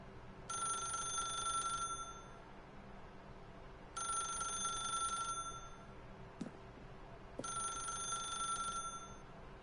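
A telephone in The Stanley Parable rings in three evenly spaced bursts of bright electric ringing with pauses between, fairly quiet, with a couple of soft clicks and a low background hum.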